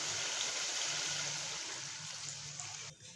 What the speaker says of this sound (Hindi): अब मैं इसके अंदर पानी डाल रही हूँ